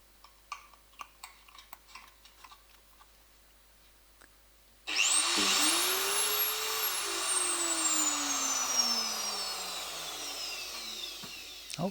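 A router switches on in a homemade router table lift after a few quiet ticks and taps, spinning up to a loud, sustained high whine that then slowly drops in pitch.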